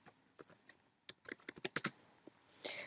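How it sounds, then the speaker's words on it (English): Typing on a computer keyboard at a desk while text is entered into a table: sparse, separate keystrokes at first, then a quicker burst of clicks, ending in a longer key press, close and quiet. "just go ahead and hit Tab, and then you can start typing the text on the next cell"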